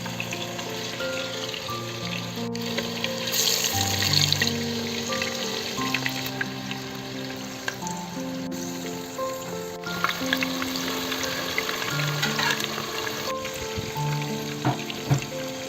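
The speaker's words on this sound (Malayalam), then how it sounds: "എണ്ണ ചൂടായിട്ടുണ്ട്. മാരിനേറ്റ് ചെയ്ത് മീൻ നമുക്ക് ഒന്നൊന്നായിട്ട് എണ്ണയിലോട്ട് ഇടാം." Marinated fish for a Malabar fish biryani frying in hot oil: a continuous crackling sizzle with scattered pops, heard close beneath steady background music.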